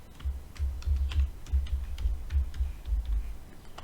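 Fingers type a password on a computer keyboard: a quick, irregular run of light clicking keystrokes, close and fairly soft, over a low background rumble, with no talking.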